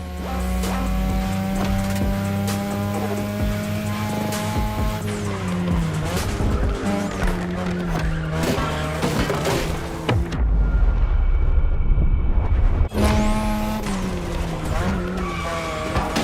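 Engine roar and sustained tire squeal from a car racing in The Crew Motorfest, loud and continuous across the whole stretch, with skidding and shifting pitch throughout and no talk.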